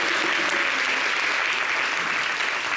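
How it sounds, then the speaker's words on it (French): A studio audience on a French-language TV show from Ivory Coast's NCI channel claps steadily in a dense, unbroken burst of applause, loud and close, with no talking over it. "Est-ce qu'on peut l'applaudir encore"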